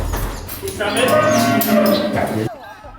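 White-backed cattle leave the barn for their first time out to pasture, and one cow lets out a loud, drawn-out moo close by, lasting about two seconds before falling quiet.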